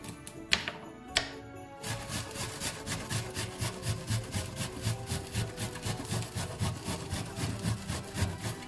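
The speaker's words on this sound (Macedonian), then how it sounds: "Додека ги рендате хромидот и морковот" Onion and carrot rubbed over a metal grater in a home kitchen, a steady rhythmic rasping of repeated strokes, close and moderately loud, after a couple of sharp knocks at the start.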